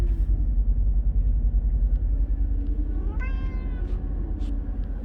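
A cat in a truck cab meows once partway through, a clear plaintive cry over the constant low rumble of the idling engine, with a couple of faint clicks around it.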